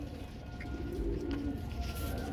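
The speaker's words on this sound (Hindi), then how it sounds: "सब एक से बढ़कर एक कबूतर हैं।" Pigeons cooing steadily at close range in a loft of fancy Royal Teddy breed birds, a low continuous murmur with no talking.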